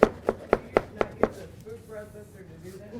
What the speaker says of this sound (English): So try and chop it as absolutely fine as you can.